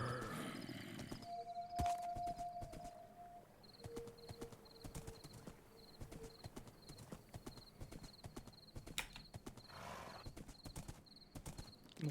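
Vampire horse in a video game, hooves clip-clopping in a steady walking rhythm, faint and close, with a brief tonal whinny early on and a soft repeating chime in the background.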